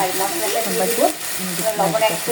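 Potatoes with cumin frying in oil, a dense close sizzle with scraping stirs running through it.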